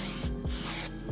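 Short bursts of hissing spray from an aerosol can of primer being sprayed on a stockcar, close up, two or three quick pulses in rapid succession.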